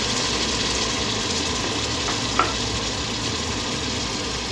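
Chopped tomatoes sizzle steadily with sautéed onions in a hot pan, a continuous crackling hiss with one brief clink partway through.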